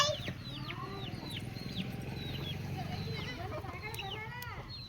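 Chickens cluck at a home in Haralahalli during a family deity festival, scattered short calls over steady chirping birds, with people talking quietly underneath.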